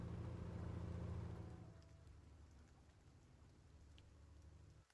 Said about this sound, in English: Also this rain, man, what the fuck.